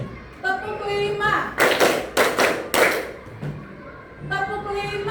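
Rhythmic group clapping in a classroom, a patterned burst of claps in the middle with a teacher's voice talking before and after.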